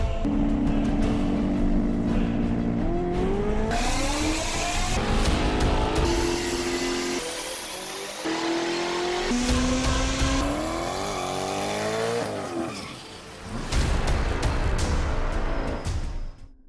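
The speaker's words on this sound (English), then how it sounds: "It's a TorqStorm Supercharged, small block Chevy based Holley Terminator EFI car." Supercharged small-block Chevy V8 with Holley Terminator EFI and a TorqStorm blower in a 1973 Chevrolet Caprice, run on a dyno: loud, continuous engine roar that climbs and drops in pitch through repeated rev sweeps, close and without talk.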